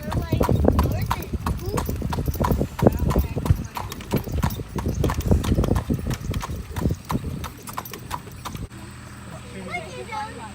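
Horse hooves clip-clop in a quick steady rhythm as a horse pulls an Amish buggy through Bird-in-Hand, Pennsylvania, loud and close, with people talking over them; the hoofbeats stop near the end.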